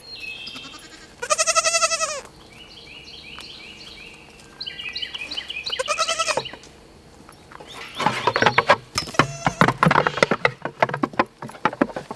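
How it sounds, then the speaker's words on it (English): A Nigerian dwarf goat bleats loudly in several long wavering calls, with birds chirping in the background and scattered clattering noises toward the end. "But this Nigerian dwarf here is loud."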